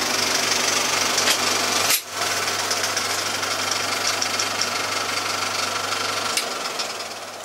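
Two cinema film projectors in a projection room give a continuous loud mechanical whir with a brief dip early on. A low running hum cuts out near the end as the machines stop.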